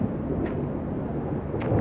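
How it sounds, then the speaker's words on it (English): A low, continuous rumble of thunder from an approaching storm on Mars in Deliver Us Mars, rolling steadily at moderate loudness with faint hiss on top, no voices. "And that storm is coming closer."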